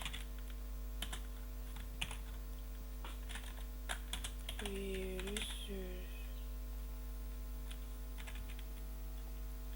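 Typing on a computer keyboard in quick, irregular bursts of light clicks over a steady electrical hum, with a brief voice murmuring in the middle.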